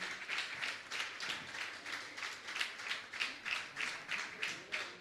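Rhythmic audience clapping at a felicitation ceremony in Bihar, a steady run of evenly spaced claps that stays moderately loud and continuous, with no talk over it.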